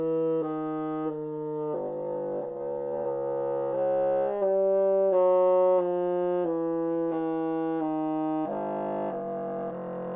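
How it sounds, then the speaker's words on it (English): Bassoon stepping up a chromatic scale with one finger lifted, each note held steadily with shifting timbre and an occasional multiphonic chord popping out, solo and close. "you'll hear that it produces a series of timbral variations, and then occasionally a multiphonic will pop out"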